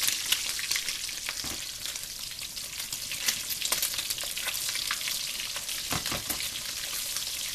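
Ham sizzles and crackles in a frying pan on a steady bed of hissing grease, with scattered sharper pops throughout at close range and moderate loudness.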